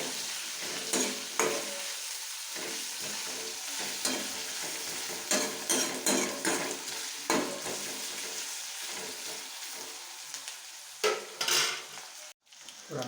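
Chillies dropped into hot oil sizzle steadily in a pan while being stirred, with intermittent scraping and clinks of a spoon against the metal, close and fairly quiet, no voices.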